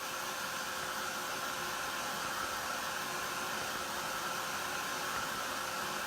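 A heat tool or hair dryer blows a steady, loud, even hiss while drying ink infusions on a papercraft rose background, running unbroken from start to end with no talk.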